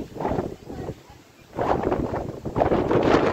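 Strong wind blowing outdoors along a route past scattered houses and patches of forest, rushing in loud gusty bursts against the microphone with a brief lull in the middle.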